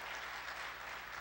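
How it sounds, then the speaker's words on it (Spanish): Brief, faint audience applause at a Spanish-language talk, a steady even patter of clapping over a low background hum. "Vale un aplauso, ¿verdad?"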